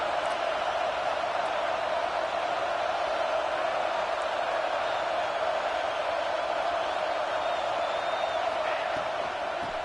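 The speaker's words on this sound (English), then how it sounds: "Listen to the crowd energy here in the early going." A packed football stadium crowd at Texas vs Nebraska sends up a continuous, even roar of massed voices from a distance, unbroken for the whole stretch.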